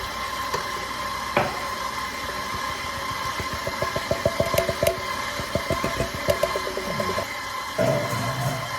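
An electric stand mixer beats cake batter for a gluten-free apple spice cake with milk added, a steady motor hum under a run of quick rhythmic clattering ticks, fairly close and moderately loud.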